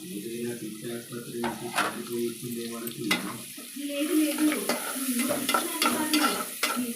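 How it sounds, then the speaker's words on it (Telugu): Onions and green chilies fry in hot oil in a pan, sizzling softly with intermittent scrapes and stirring clinks of a spatula, quiet and close, with a faint hum running beneath. "ఇది బాగా వేగేంత వరకు వేయించుకుందామండి. ఆనియన్స్ బాగా బ్రౌన్ కలర్ రావాలి."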